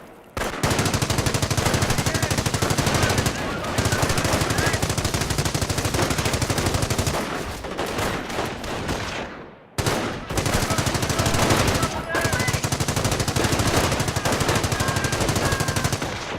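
Sustained machine gun fire and gunfire bursts in the World War II strategy game Company of Heroes, loud and nearly continuous with a brief pause midway, then resuming.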